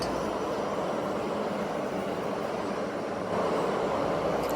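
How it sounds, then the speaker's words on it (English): A loud, steady rumbling roar of a subway train moving through a New York City station, with a constant broadband rush that swells slightly near the end. "the trains pulling through or going through the station are really loud"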